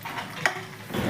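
Eggs that were boiled first, then cut, fry in hot oil for egg curry, giving a steady close sizzle with a faint clink near the middle and stirring that picks up toward the end.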